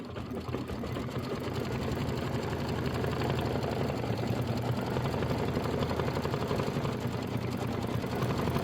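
An embroidery machine stitches a pillow design with a rapid, continuous mechanical chatter, close and even for the whole stretch with no pauses.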